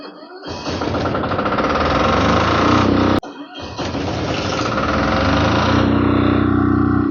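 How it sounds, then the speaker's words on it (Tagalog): Philking PK7500i generator engine cranking and catching, then running loud and steady with a rough, buzzing mechanical roar, briefly cutting out once and restarting, then settling into a continuous drone. "Dapat mabuhay na yung ating generator."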